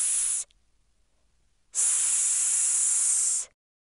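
In the PC game Play & Learn - Let's Make Friends (2001), a brief hiss, a pause, then a longer sustained hissing "sss" sound, bright and steady, likely a voice making the S sound.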